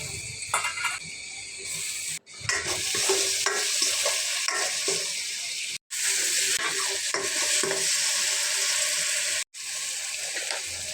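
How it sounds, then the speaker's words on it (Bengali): Spices, green chilies, ginger paste and dried shrimp sauté in hot oil, a continuous loud sizzle with stirring scrapes, broken by two brief silent gaps. "এরপর কাঁচামরিচ, হলুদের গুঁড়ি, মরিচের গুঁড়ি, মশলার গুঁড়ি, সামান্য আদা বাটা, পরিমাণ মতো লবণ আর চিংড়ি শুটকিগুলো দিয়ে ভালোভাবে কষিয়ে নিচ্ছি"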